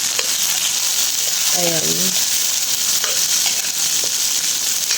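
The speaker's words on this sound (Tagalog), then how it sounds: "so ilalagay natin yung sitaw natin" String beans (sitaw) tipped into a hot oiled pan burst into a loud, steady sizzle that carries on evenly throughout, with a short spoken word over the frying.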